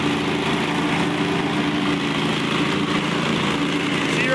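A SCAG 3-wheel 61-inch commercial lawn mower with an oil-cooled Kohler 22hp engine runs steadily at speed with the deck on, a loud, close, continuous engine drone with a throbbing low rumble.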